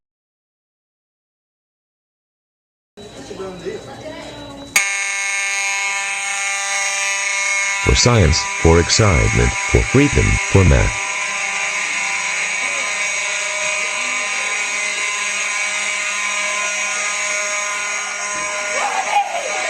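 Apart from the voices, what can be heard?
daycare fire alarm ringing after being pulled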